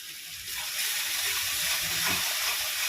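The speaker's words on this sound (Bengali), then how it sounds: "মিক্সির বাটিটা দিয়ে অল্প একটু জল দিয়ে দিলাম" Water is poured from a mixer jar into spices frying in a pan for a spicy fish curry, giving a loud, steady hiss and gush that swells after a moment and keeps going to the end.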